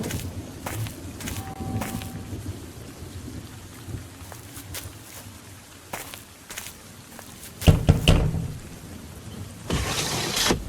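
Steady rain falls throughout a Sherlock Holmes: Secret of the Silver Earring game scene, with scattered drops and a louder rumbling swell near the end, and no one speaks.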